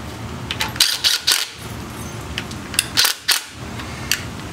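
Small pneumatic impact gun working on a 1966 Ford FE engine during disassembly, giving two clusters of loud, close rattling bursts.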